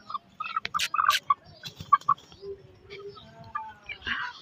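Several hens sitting about in a hot rural Pakistani yard give short clucks and calls, a cluster of brief bursts near the start and a couple more midway, with faint voices and background noise underneath.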